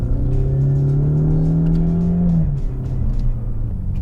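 A Ford Mustang EcoBoost's four-cylinder turbo engine revs up close by, its pitch climbing smoothly for a couple of seconds before dropping and settling into a lower hum.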